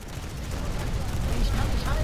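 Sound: gunshot in video game Planetside 2

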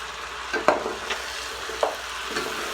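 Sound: stirring kabsa being cooked in a pan

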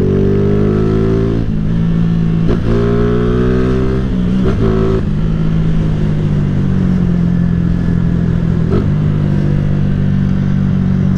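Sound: Honda CG 150 Titan 2008 motorcycle revving, shifting gears

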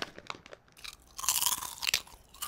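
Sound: crunching on carrots

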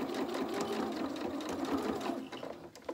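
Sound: sewing machine stitching dress shoulder seams

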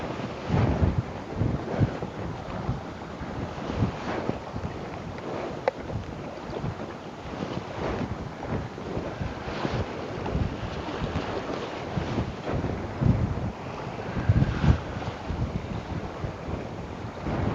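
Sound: wind blowing at the sea while fishing

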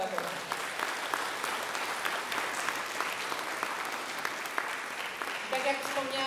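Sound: applause for the music teachers

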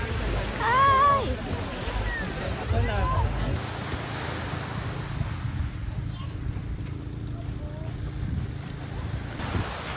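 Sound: ocean waves on the beach at Puerto Galera

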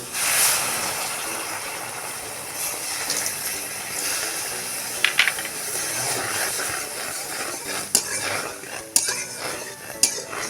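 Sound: water poured onto roasted semolina, sizzling

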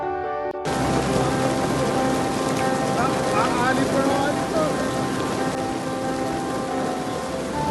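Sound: hail falling

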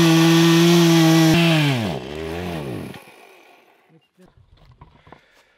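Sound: chainsaw cutting wood

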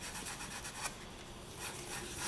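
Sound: lightly scraping polymer clay shell pendant

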